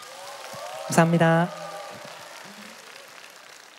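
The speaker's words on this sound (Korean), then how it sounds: "여러분 다시 한번 큰 박수 부탁드립니다." Crowd applause at an outdoor singing contest: a soft, steady patter of many hands that continues behind a brief spoken thanks from a nearby voice.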